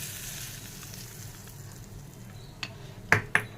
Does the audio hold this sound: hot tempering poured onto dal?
yes